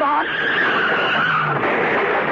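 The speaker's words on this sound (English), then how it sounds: "John, that car ahead. It's skidding." A car skids on a hail-covered summer road in a radio drama, a loud, close tire squeal that rises and wavers across the whole stretch with faint engine rumble beneath.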